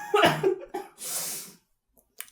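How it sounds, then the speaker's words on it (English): A single close cough from a person, a short voiced catch followed by a breathy burst, then quiet. "cough."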